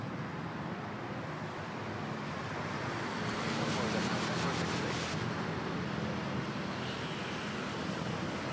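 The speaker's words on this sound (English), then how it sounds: "Japan Airlines Mini-Me Dreamliner off to Tokyo Narita" A Japan Airlines Boeing 787 Dreamliner bound for Tokyo Narita rolls for takeoff at Manila Airport, a broad steady engine roar heard from a distance, swelling slightly midway and staying even throughout.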